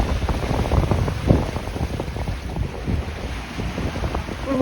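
Catalina Capri 26 sailboat running downwind in rolling waves, steady rushing wind buffeting the microphone over the low wash and slosh of water along the hull, continuous and close.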